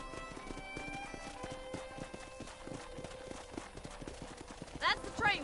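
In Red Dead Redemption, a horse's hooves clop in a steady, quick rhythm under soft tonal music, ending with a brief neigh; a voice speaks as well.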